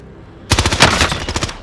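Rapid automatic gunfire in a video game, a loud close burst of rattling shots that starts abruptly and runs for about a second.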